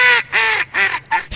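Four loud, nasal, honking quacks in quick succession, close up and evenly spaced, made by a person imitating a duck.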